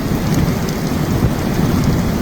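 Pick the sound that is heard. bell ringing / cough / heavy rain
heavy rain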